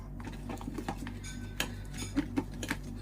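A utensil clinks and scrapes against a bowl as an egg is beaten into batter, with soft irregular taps and a few sharper knocks over a faint steady hum.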